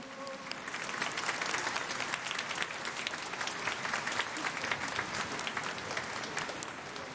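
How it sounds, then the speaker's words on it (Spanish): Steady, dense applause from a large crowd at Pope Francis's Holy Mass in Peru, loud throughout with no pauses. "Vamos a darle fuertes aplausos a su santidad"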